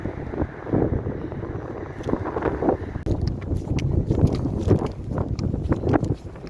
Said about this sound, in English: I think it's going to be too windy to say anything.